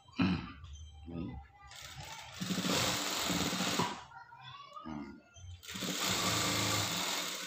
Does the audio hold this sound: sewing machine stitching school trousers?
yes